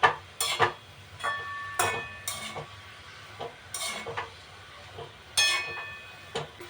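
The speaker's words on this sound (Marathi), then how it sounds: "जरा हे तेल लसूण जिरामध्ये थोडीशी अशी जरा परतून घ्यायची" Fenugreek leaves are stirred and sautéed in oil with garlic and cumin in a pan for a rustic Marathi vegetable dish, with a soft sizzle under intermittent scraping strokes of the spatula, close and fairly quiet.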